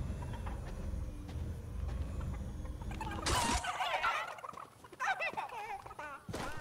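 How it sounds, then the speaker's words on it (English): Chickens on a farm in the Fortnite Chapter 2 Season 6 video game, clucking and gobbling calls in short bursts over a steady background game ambience, moderately loud and close. "you can grab these chickens and fly with them"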